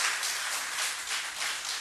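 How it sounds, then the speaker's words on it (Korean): Church congregation at a Korean revival meeting clapping together, a dense steady wash of many hands applauding, moderately loud and continuous without talk. "박수 한번 쳐줍시다."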